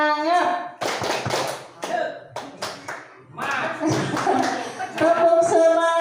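A group performing the 'tepuk semangat' rhythmic clap routine, sharp bursts of clapping in patterned groups interleaved with voices chanting together, close and lively.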